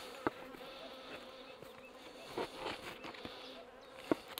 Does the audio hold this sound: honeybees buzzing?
yes